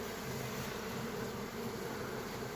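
Steady, dense buzzing of many purebred honeybees working at open hive frames close by, a continuous droning hum with no voices.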